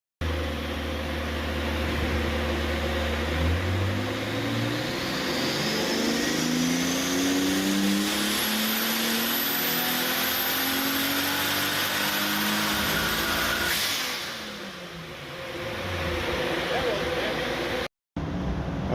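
A BMW fitted with a Toyota 1JZ engine revs on a dyno, a loud droning engine note climbing steadily in pitch over many seconds before cutting off abruptly, with someone talking over it.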